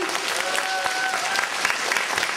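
Applause from an audience at a school pageant-style show, a steady dense patter of clapping holding at moderate level throughout, with a faint voice briefly audible beneath it.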